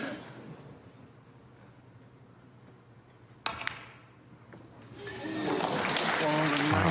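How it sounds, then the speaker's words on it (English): A snooker crowd at the Northern Ireland Open bursts into swelling, sustained applause after a sharp ball click, building from quiet to a loud, dense clatter of clapping while a commentator talks. "The crowd are getting behind him."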